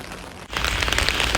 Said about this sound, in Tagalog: Maulan na Lunes dito ngayon sa amin.